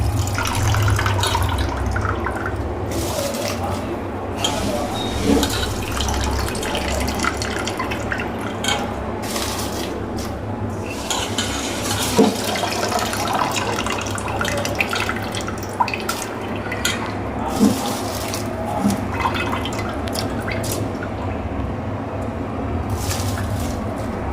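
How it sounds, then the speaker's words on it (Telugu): Water poured onto soaked rice in a pot while cooking Hyderabadi bagara rice, a steady close watery rush with scattered drips and splashes throughout and no talking. "అందుకే నేను 4 గ్లాసుల బియ్యానికి 9 గ్లాసుల వాటర్ పోసాను."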